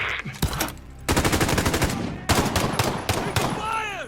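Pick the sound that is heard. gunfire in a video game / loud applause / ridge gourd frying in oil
gunfire in a video game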